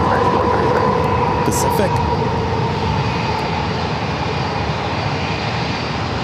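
An American Airlines jet on runway 27 at San Diego airport gives a loud, steady engine roar throughout, with people talking over it.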